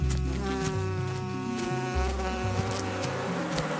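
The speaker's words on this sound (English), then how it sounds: "Do you hear that? Follow that buzz" A swarm of bees heads toward a hive, giving a loud, continuous droning buzz with wavering pitch that carries on throughout without any talking.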